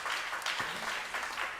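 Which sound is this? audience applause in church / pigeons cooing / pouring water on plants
audience applause in church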